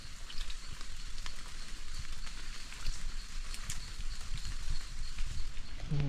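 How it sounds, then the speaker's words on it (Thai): Rain falls outdoors as a faint, continuous patter with scattered crisp drop clicks over a soft wash of noise, and nobody speaks. "ฝนตกแท้เอาวะ"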